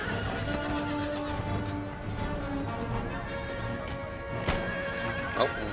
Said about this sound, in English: he looks like he's charging my lines